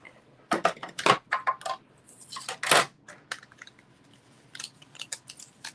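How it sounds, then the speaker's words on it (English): Paper being run through a Stampin' Cut and Emboss die-cutting machine, heard as close, quiet clusters of crunching and clicking pressure sounds with short pauses between them. "let's grab our Stampin' Cut and Emboss. Let's cut him out."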